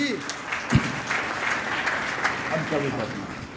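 Audience clapping at a Hindi comic poetry gathering, a broad wash of applause over a roomful of people with a voice speaking through it and one sharp thump near the start.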